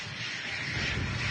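A NetJets Europe Embraer Phenom 200 business jet arriving at Manchester Airport, heard as a steady, broad jet engine roar at moderate distance with no talking.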